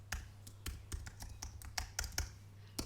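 Keys clacking on a computer keyboard in about a dozen separate sharp taps with uneven spacing, close and fairly quiet over a steady low electrical hum.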